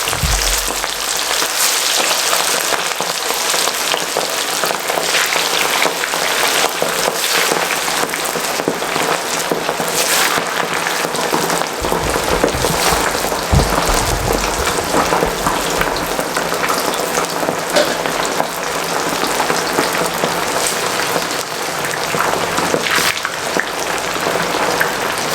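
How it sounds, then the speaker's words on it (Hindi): Fish sizzling and frying in hot oil over a high flame, a dense, steady crackle and hiss that holds loud and even throughout with no talking. "हमने तेज फ्लेम में इसको फ्राई करना है"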